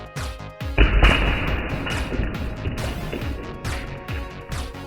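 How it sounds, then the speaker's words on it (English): A rubber-band powered LEGO missile bursts apart with a sharp crash, followed by a clattering scatter of plastic pieces bouncing and rattling for several seconds, close and loud. "As you can see, the missile exploded into pieces"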